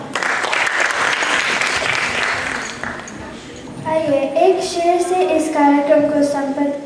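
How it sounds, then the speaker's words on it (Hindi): An audience at a Hindi stage comedy event claps loudly for a performer, a dense burst of applause, then a voice speaks as the clapping fades. "बाबा बारी के लिए जोरदार तालियां।"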